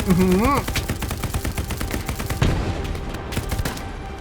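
Rapid automatic gunfire from a machine gun in the WWII shooter Hell Let Loose, loud and continuous bursts throughout with a sharp louder shot midway, and a voice heard briefly at the start.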